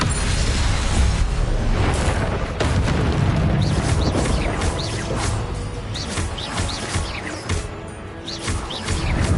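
Repeated booming blasts of a fire spell in a wizard video game, loud and continuous, with sharp crashes every second or so over a dense rumbling bed and faint chirping in the background.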